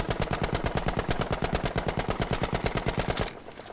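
Rapid, steady automatic fire from a Sten submachine gun on a Battlefield V shooting lane, a loud unbroken burst of evenly spaced shots lasting about three seconds before cutting off into a brief ringing tail.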